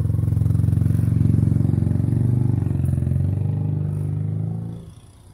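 Motorbikes idle on a Bangkok street by a canal bridge, a loud steady low engine chug running for several seconds before tapering off at the end.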